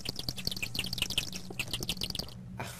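In the video game Adventurecraft, birds give rapid, repeated high chirps over a low rumbling game background, steady and moderately faint, then break off near the end.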